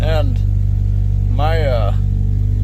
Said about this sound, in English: The exhaust is still leaking